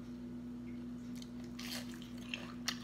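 Someone chews crispy deep-fried tofu with a crunchy breaded coating and soft inside, a few faint crunches and bites close up over low background hum, no talking.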